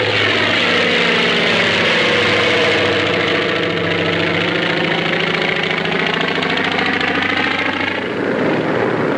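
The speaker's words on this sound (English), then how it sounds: "Hellcat fighters and Avenger bombers take off" WWII Hellcat fighters and Avenger bombers take off in 1945 during the attack on Manila Harbor, a loud continuous roar of piston engines and propellers that sweeps and shifts in pitch, swelling and then easing slightly near the end.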